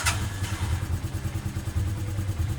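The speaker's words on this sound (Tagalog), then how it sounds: "mapapansin nyo yung idle niya ay stable" Motorcycle engine with a fuel-screw-type carburetor idles steadily after tuning, a close, even low-pitched putter with a light mechanical clatter and no voices.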